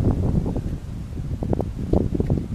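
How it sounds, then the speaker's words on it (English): Gusty, rainy wind high in Jamaica's Blue Mountains buffets the microphone in uneven bursts, a steady rough rumble with louder swells, close and continuous, no voices. "Pretty windy right now and rainy."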